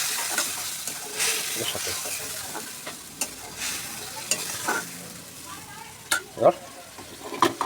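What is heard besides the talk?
spice paste frying and being stirred in a pan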